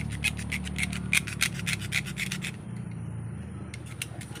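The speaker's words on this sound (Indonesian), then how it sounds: "Gosok tetap ya guys." Rapid, rhythmic rubbing and scraping as bark is stripped off a calamansi lime branch, loud and close, easing into quieter scratching near the end.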